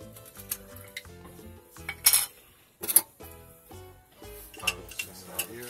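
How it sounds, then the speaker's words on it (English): Olives go into a cooking pot in an RV kitchen, with close, loud metallic clinks and scrapes of utensils against the pot in irregular bursts, a soft sizzle underneath. "add some olives."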